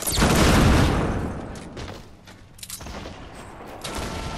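Gunfire in the battle royale game Fortnite, beginning with a loud booming burst of shots that fades into scattered closer pops and cracks, with no talk.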